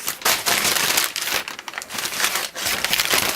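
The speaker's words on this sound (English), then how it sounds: "But I will unwrap these in front of you." Books being unwrapped from a paper parcel, with steady, loud crinkling and crumpling of paper that tears in short bursts throughout.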